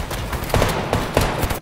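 Rapid bursts of gunfire in Fortnite crackle in quick succession, several sharp shots close together and loud throughout.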